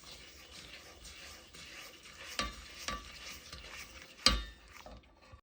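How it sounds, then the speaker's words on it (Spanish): Cream and sugar stirred together in a pot for homemade turrón, with a steady soft scraping and swishing, a few sharper knocks of the spoon against the pot standing out, loudest near the end. "lo que tenemos que hacer es revolverlo hasta que el azúcar se haya disuelto con la nata"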